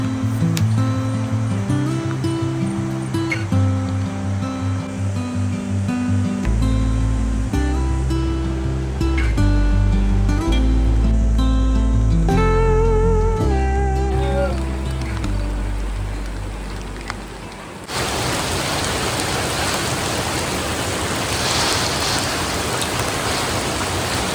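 Melodic music plays for a while, then cuts out and leaves a steady, loud hiss of rain falling by a river near Lamjung, Nepal.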